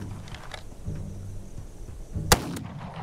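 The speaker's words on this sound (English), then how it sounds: "That is a powerful gun. Little hand cannon there." A single sharp, booming shot from a hand cannon in a video game, loud and sudden against a quiet, low background rumble, with a few faint clicks before it.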